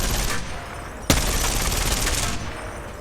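The Sheila minigun in the Apex Legends video game fires a sustained, dense burst of rapid shots, loud and close, with one sharp crack partway through and no voices.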